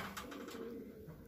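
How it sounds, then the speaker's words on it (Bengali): A pigeon in a racing-pigeon loft gives a short, faint, low coo, heard briefly and close with nothing else around it. "মাদি কবুতর।"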